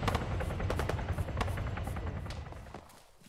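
Gunfire in a military video game: dense rapid shots and bursts crackle continuously over a low rumbling background, moderately loud and fading slightly at the end, with no voices.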